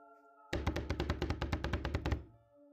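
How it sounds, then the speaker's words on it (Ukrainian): A fist pounds rapidly on a door, about a dozen heavy thuds in a fast steady run lasting under two seconds, loud and close, with a low tonal drone before and after. "почувся вже не стук, а тарабанення кулаком по дверям"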